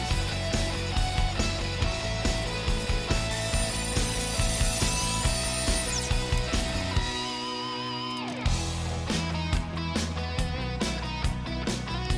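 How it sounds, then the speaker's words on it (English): A saw ripping a sheet of plywood on sawhorses for a garage workbench, with a dense, loud rhythmic cutting racket that pauses briefly near the middle, then resumes. "it's time to rip some plywood"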